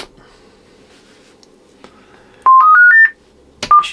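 AnyTone ARES II 10/11m FM/AM/SSB transceiver giving a short series of four rising electronic beep tones in quick succession, followed by one more beep after a pause, close and clear against faint background hiss.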